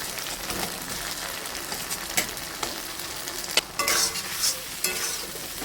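Spice masala and potatoes sautéing in a pan for a bottle-gourd dhoka dalna, a steady sizzle with scattered scraping stir sounds and a few louder clatters near the end, no voices.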